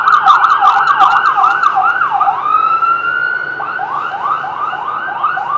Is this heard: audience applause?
no